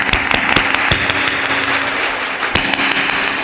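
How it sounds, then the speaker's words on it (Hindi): An audience claps at a gathering, a dense, loud wash of applause running throughout with a few sharper individual claps standing out. "ज्यादा ताली बजाओ"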